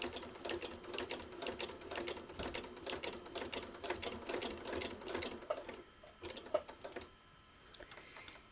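A sewing machine runs in a steady rapid stitching burst across the binding of a small quilted Valentine project, loud and close for about six seconds before slowing into a few short, separate stitches.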